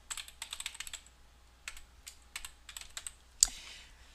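Quiet bursts of keystrokes on a computer keyboard as a website address is entered, with short pauses between clusters of clicks and one sharper key strike near the end.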